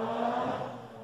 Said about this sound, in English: Excuse the noise in the background, the car going past.